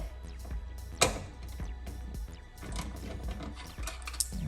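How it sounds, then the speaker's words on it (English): A ratchet clicks rapidly and quietly while backing a bolt out on a 2022 Jeep Gladiator truck bed, with a steady run of small ticks and a few sharper knocks, heard alone. "So now, I'll go ahead and reverse that bolt out."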